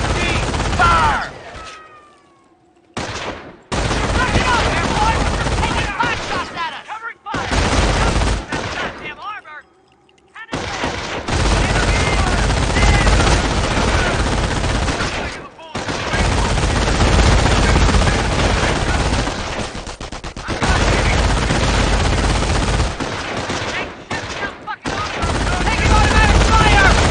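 Sustained machine gun fire in the Company of Heroes video game, long loud rattling bursts broken by brief pauses, with booming impacts mixed into a busy battlefield.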